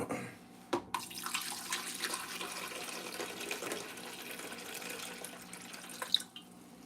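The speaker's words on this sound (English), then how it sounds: "The pouring of the water," Water is poured from a bucket in a steady, quiet trickle that runs for several seconds, with small clinks at the start and end.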